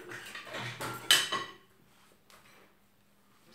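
A wet steamer basket clatters against dishes and metal as it is pulled from a dishwasher in a home kitchen, with a few sharp clanks early on followed by quieter handling.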